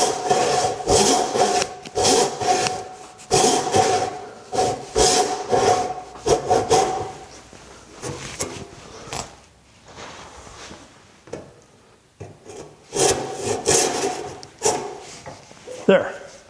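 Repeated back-and-forth strokes of a backsaw cutting a small wooden tenon, rhythmic and close, pausing partway through before resuming, with someone talking between strokes.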